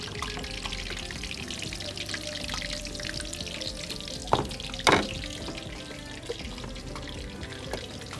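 Cumin-coated food fries in hot oil in a home kitchen, a steady soft sizzle with a couple of sharp splatters or clinks near the middle.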